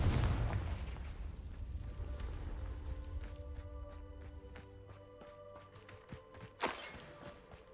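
In a Harry Potter video game, Confringo spell blasts open with a loud booming burst, then fade into crackling, clattering debris with ringing tones and a sharp thud near the end, and no speech.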